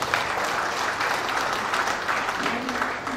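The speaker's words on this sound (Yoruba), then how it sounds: "Ẹ jọ̀ọ́ ẹ pàtẹ́wọ́ fún wọn." Audience at the official launch of a community-owned primary health care model applauding, a continuous burst of clapping from many hands, steady and moderately loud throughout.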